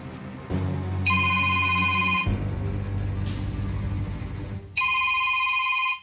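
A telephone bell rings late at night in two loud, close bursts of sustained electronic trilling, separated by a pause over a low steady hum, with no voices.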